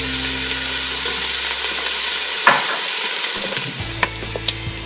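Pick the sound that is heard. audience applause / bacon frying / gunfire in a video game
bacon frying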